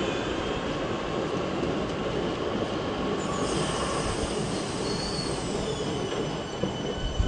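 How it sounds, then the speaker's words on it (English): A Class 465 electric train rumbles and hums as it pulls away from London Waterloo station, wheels grinding on the rails with faint squeals, steady and fairly close. "the train we arrived on is now leaving"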